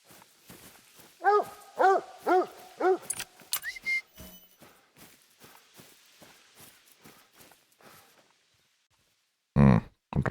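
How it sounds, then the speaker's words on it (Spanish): Dog barking in a hunting video game set in the Vurhonga Savanna, a quick run of four loud barks followed by fainter footsteps and rustle, then one sharp burst near the end. "Está el perro."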